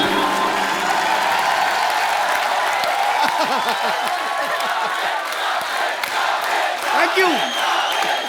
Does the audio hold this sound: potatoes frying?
no